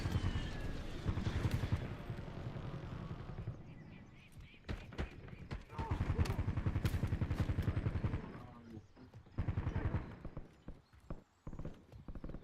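Repeated gunshots crack out in a military shooter game, arriving in bursts with pauses between them and set against a busy game soundscape.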